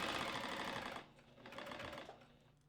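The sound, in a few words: sewing machine back stitching a tea towel dress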